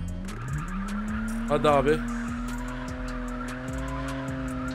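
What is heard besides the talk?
car drifting with tire squeal in a mobile video game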